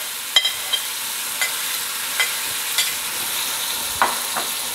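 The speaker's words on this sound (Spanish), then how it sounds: "Le vamos a agregar todos los ingredientes, el tomate, la cebolla y el pimiento, para que se vayan haciendo junto con los espárragos" Tomato, onion and pepper fry together with asparagus in a pan for Estepa asparagus soup, a gentle constant sizzle broken by about eight sharp utensil scrapes and taps at irregular intervals.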